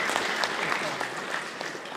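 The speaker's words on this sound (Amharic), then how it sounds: "በደንብ አጨብጭቡ እንዴ!" A seated audience at a religious talk bursts into sustained clapping, a dense, even patter of many hands that stays steady throughout, with faint voices mixed in.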